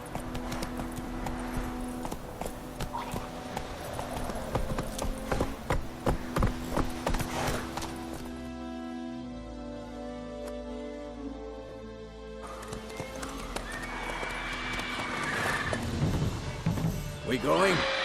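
Hooves of Roach, a horse in The Witcher 3, clop at a gallop in a quick steady rhythm, joined by game music and a short spoken line partway through.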